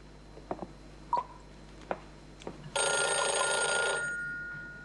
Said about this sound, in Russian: Снимите трубку